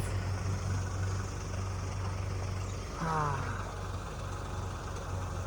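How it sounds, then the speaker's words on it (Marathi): A big truck engine idles with a steady low throbbing hum at moderate distance, and a brief higher whine rises and fades midway through. "मोठी ट्रक आहे बोलतेच मोटर"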